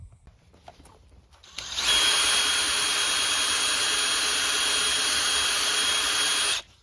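A power drill buzzes a stuck part off a Dodge Stratus RT coupe, starting abruptly after faint background noise and holding a loud, steady high whine for about five seconds before cutting off.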